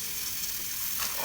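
Kachnar buds frying in hot oil for qeema kachnar, a steady close broadband sizzle with a brief brighter hiss near the end.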